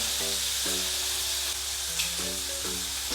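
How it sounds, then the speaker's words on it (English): Squid pieces sizzle and crackle steadily in hot oil for a few seconds, a constant frying hiss with soft background music underneath and no speech. "These pieces of squid, because of the size of them, will literally take you just 4 minutes to cook, so I'm going to add these in quickly."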